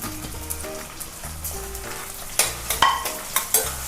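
Onions, tomato pieces, green chillies and ginger frying together for an egg chilli dish, a crackling sizzle with stirring and a few sharp spatters, under a faint background tune.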